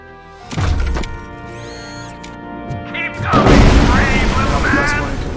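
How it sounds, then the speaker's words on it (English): Cobra assault cannon in the RoboCop Rogue City video game fires a heavy boom, then a second long, roaring blast that rumbles on over steady droning game tones and faint voices. "Cobra assault cannon operatives are getting into position."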